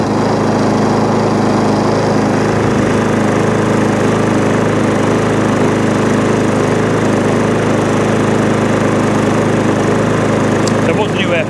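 An MTD lawn mower engine, freshly serviced, idles steadily and loudly close by, a continuous even drone with no breaks throughout.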